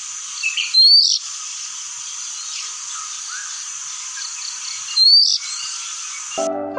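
Oriental magpie robin (Copsychus saularis) calling in the open, two short bright phrases about four seconds apart over a steady high hiss of insects, with a low rattling sound at the very end.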